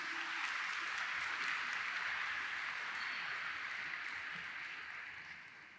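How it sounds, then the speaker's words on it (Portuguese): A church congregation applauds volunteers called forward during a service, a broad wash of clapping that holds steady and then slowly fades toward the end, heard quite faint and distant. "E vamos aplaudir esses queridos aqui que vão participar aqui."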